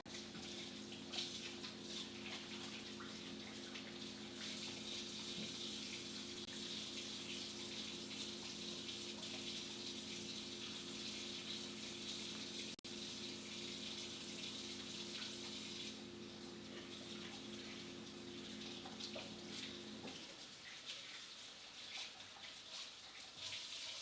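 Tap water runs steadily into a sink while an oily hand is washed during bread making, a constant close rush that cuts off near the end, with no talking.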